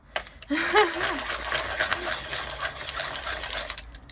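A pencil sharpener whirring steadily as a Faber-Castell Pitt pencil is ground down, a continuous buzzing grind with a brief voice sound near the start.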